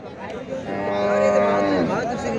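A local-breed cow at a large cattle market in Charmonai, Barishal, lets out one long, loud, close moo over faint background chatter.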